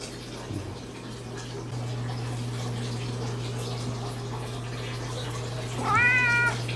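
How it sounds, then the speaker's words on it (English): A house cat gives one clear, rising meow near the end, heard over a steady low hum and trickling water in a fish room. "Or I can just play with the cat instead."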